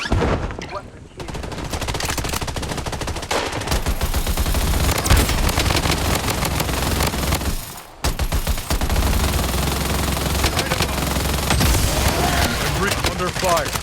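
A minigun fires in a battle royale video game in dense, rapid bursts that run almost continuously. Firing breaks off briefly near the start and again in the middle, and a voice is faintly mixed in.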